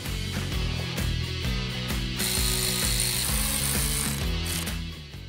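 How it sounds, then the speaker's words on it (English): Ratchet tightening bolts on a Jeep JK steering kit going into aluminum, with a fast, close, continuous clicking of the pawl in rapid bursts, loud and steady with no talking. "take your ratchet, make sure all the bolts are tight"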